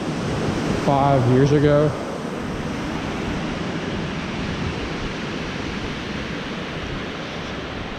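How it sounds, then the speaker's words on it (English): Water pours steadily over a recently redone dam, a broad, continuous rushing roar that holds at the same level throughout, with a voice speaking briefly near the start. "That's a waterfall."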